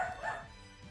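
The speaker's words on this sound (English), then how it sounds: "If you can hear the dogs, they do be the woofers." Dogs barking in short yips and bow-wows, somewhat distant and faint, a couple of quick barks over a low background hum.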